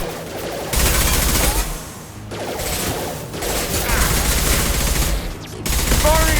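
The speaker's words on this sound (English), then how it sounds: "Firing an impact gun!" Impact gun fire in the video game Mass Effect Legendary Edition, during an encounter with hunters: loud, dense bursts of rapid shots with mechanical clatter, broken by short pauses between volleys.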